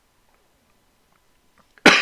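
One short, sharp cough bursts out at the very end after near silence, from someone speaking on an economics program.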